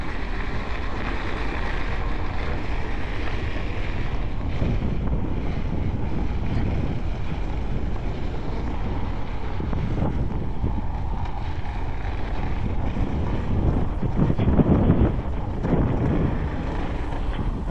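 Constant wind roars and buffets across the microphone of a rider on a Begode Extreme electric unicycle, a loud, steady rush that swells and dips slightly throughout, with no talking.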